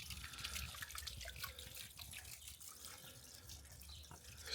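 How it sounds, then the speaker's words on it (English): A garden water feature holding fish trickles and splashes continuously at a soft, steady level, a gentle close-up flow with no voices over it. "Lovely water feature with some fishes on the inside."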